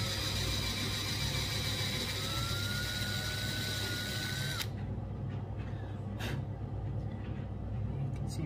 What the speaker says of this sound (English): I do also have a 4 millimeter drill here.